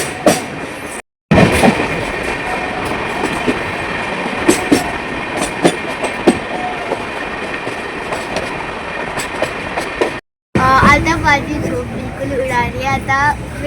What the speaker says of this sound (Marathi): आमची ट्रेन सुटली आहे